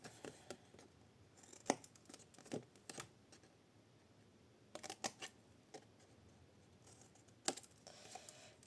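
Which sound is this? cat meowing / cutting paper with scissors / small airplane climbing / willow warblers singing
cutting paper with scissors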